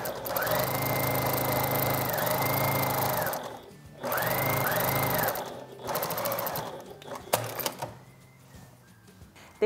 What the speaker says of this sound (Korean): 밑단 부분도 똑같은 방법으로 봉제를 해줄게요